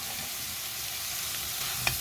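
Onion, garlic, red pepper and minced meat stir-fried together in a pan, giving a steady continuous sizzle with soft stirring scrapes and one sharp clink near the end.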